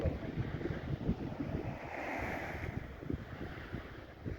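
Sea waves at the Odesa shore on the Black Sea, a steady wash of surf mixed with gusty wind buffeting the microphone, close and fairly loud with no talking.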